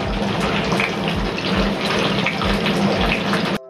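Water from a rinsed mixer jar pours into a clay cooking pot of fish curry, a loud, continuous splashing gush close by, steady for a few seconds before cutting off abruptly, with no talking.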